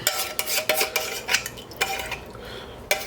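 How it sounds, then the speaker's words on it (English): A spoon stirs beef stew with coconut cream in a pot, scraping and clinking against the metal in several distinct strokes, loud and close, with no talking. "And give that a stir."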